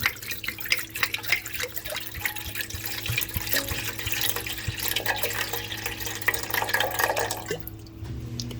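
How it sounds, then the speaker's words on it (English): About 400 grams of water poured into a Zojirushi bread machine pan for fresh-milled whole wheat buns: a steady, close trickling and splashing that runs continuously for several seconds before stopping near the end. "So I put approximately 400 grams of water in."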